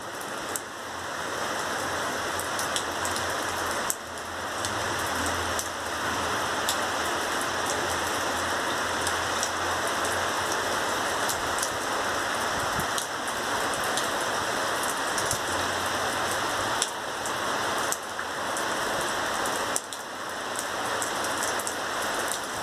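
Heavy rain pouring during an afternoon thunderstorm in Ingolstadt, a dense, steady hiss of drops close by that holds throughout with slight surges, no voices.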